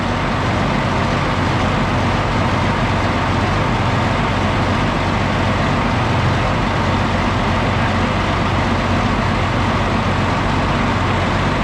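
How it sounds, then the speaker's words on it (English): An M35A2 military truck's General Motors engine runs loud and steady with a belt tensioner noise, a continuous broadband mechanical drone that stays constant throughout. "Sounds like a General Motors belt tensioner"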